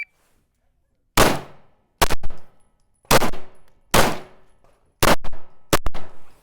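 Pistol fired at a shooting practice range, six sharp close shots spaced at uneven intervals, each ringing briefly before fading.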